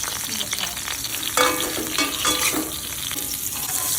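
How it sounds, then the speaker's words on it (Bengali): Eggplant fries in hot oil in a wok with a steady sizzle, punctuated by several sharp scraping and clinking strokes from a spatula turning the pieces. "কড়াইতে তেল গরম করে আমি প্রথমে বড়িটা ভেজে নিলাম, তারপর বেগুনটাকে ভেজে নিলাম।"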